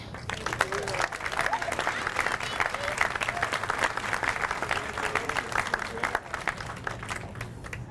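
Sustained audience applause for award recipients at a Nashville Coalition Against Domestic Violence event, a dense, steady wash of many hands clapping that carries on for the whole stretch, with some voices mixed in.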